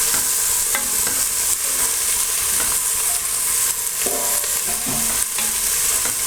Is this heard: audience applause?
no